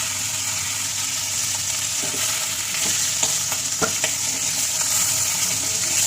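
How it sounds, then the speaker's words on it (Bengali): Pieces of catla fish frying in oil, a steady near sizzle broken by several clicking spatula strokes against the pan, with no talking. "চলো মাছটা ভাজা হয়ে গেছে বা তুলবো"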